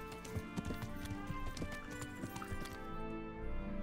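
Horse hooves clip-clopping in steady uneven steps, with a neigh, in a mining village in the video game Kingdom Come: Deliverance, set against a constant game music and ambience bed.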